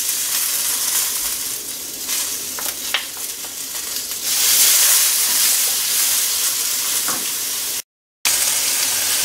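Peppers, garlic and shallots sizzle in a hot pan with a steady, close frying hiss that swells partway through as the vegetables are stirred, then cuts out briefly near the end.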